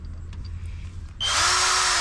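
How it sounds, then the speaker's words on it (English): A power drill whirs to life after a second of quiet room tone, running loud and steady at close range during maintenance on a Maytag dryer. "So this is your drill right there, the head of the drill."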